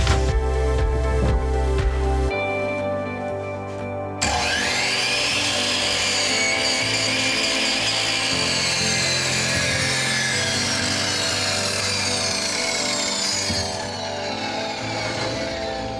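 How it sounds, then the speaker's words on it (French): A repaired electric power saw cuts through wood during a workshop crate build: a loud, steady motor whine with grinding saw noise that shifts pitch partway through and runs nearly unbroken for the whole stretch. "J'ai réparé la scie."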